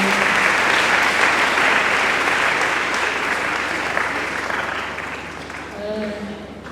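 Audience applause for a gospel singer at a Burundian gospel event, a dense, loud burst of clapping that slowly fades, with a voice speaking over it near the end.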